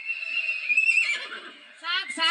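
A horse whinnies loudly and close by, a drawn-out neigh followed by a short second burst, set amid a staged folk theatre performance.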